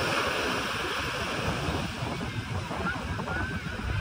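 Atlantic surf rolls onto the shore near New York City, a dense continuous wash of breaking waves with some wind rumble on the microphone, steady and fairly loud throughout.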